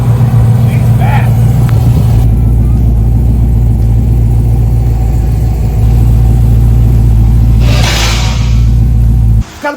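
A car engine pulls up to speed while driving, a strong low drone and rumble that holds steady with a brief surge, with the car's drive shaft vibrating, and a voice faintly heard inside.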